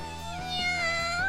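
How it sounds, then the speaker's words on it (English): A cat meowing in the video game The Fruit of Grisaia: a single drawn-out, rising and wavering meow lasting about a second, heard alone over a faint tonal background. "Oh, it's a cat."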